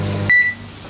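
A microwave oven hum cuts off and a single sharp electronic beep sounds, close and loud, followed by a second beep starting at the very end.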